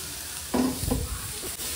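Vegetables frying in a pan for homemade pizza, a close steady sizzle with a couple of brief louder stirring scrapes, no voices.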